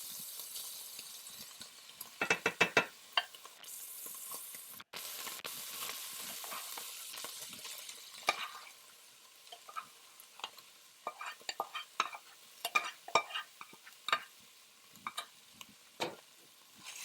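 Rice for fried rice fries in a pan with a soft sizzle, broken by scattered scraping and tapping as it is spread and stirred, fairly close and moderately quiet.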